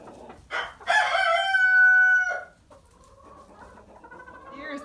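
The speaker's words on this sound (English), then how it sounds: "There's the grouchiest rooster God put on earth." A rooster on a small farm keeping Easter egg chickens lets out one loud, close crow with a rising start and a long sustained middle that cuts off sharply, followed by quieter background farmyard noise.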